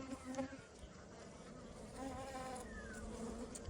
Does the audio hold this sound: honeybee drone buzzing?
yes